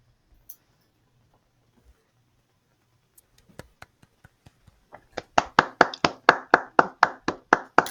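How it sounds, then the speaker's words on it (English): At a Toastmasters meeting, a few scattered taps give way to a small group clapping in unison, a quick rhythmic run of sharp claps that grows louder toward the end. "A plethora of clapping."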